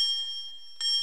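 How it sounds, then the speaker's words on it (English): An electric bell rings with a sustained metallic tone that dips briefly, then strikes again more brightly near the end; no one speaks. "Today we shall learn how an electric bell works."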